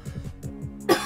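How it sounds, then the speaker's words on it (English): A sharp, loud cough bursts out near the end, following a few soft, rhythmic murmuring sounds. "I'm so sorry for that cough."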